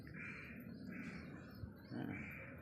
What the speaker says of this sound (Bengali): ডিমটা আরেকটা ঘরে চেলে দেওয়া হবে, জোড়া পায়রা আছে অনেক